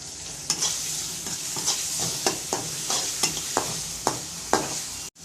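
Onion and prawns fry in a pan, a steady loud sizzle broken by about ten sharp stirring scrapes at a fairly even rhythm, with no voices.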